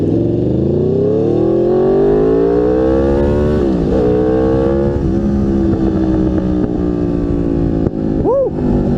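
A motorcycle engine drones loud and close, with the pitch climbing slowly and a sharp rev blip near the end; any exhaust popping is hard to pick out under the steady roar.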